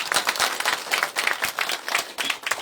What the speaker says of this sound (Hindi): मैं चाहूंगा कि हम जोर से तालियां बजाएं।